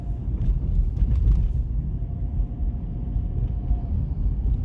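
A 2005 Jeep Liberty with a rebuilt title drives along, heard from inside the cabin as a steady, fairly loud low road and engine rumble with no talking.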